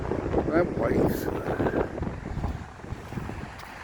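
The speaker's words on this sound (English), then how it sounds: "we're having that bit of wind. It's coming over already" Strong wind buffets the microphone on the Blackpool seafront at high tide, with a broad roar of waves and surf beneath and brief voices early on.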